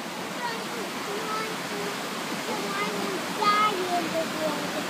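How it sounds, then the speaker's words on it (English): Multnomah Falls waterfall roaring as a steady, dense hiss of falling water up close, constant throughout, with faint voices in the background. "Who would have thought a waterfall could get you so wet?"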